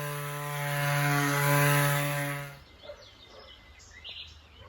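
A power sander works a resin-coated wooden board, giving a steady, loud humming motor whine with a rough grinding edge for about two and a half seconds before it cuts off, leaving quieter background noise.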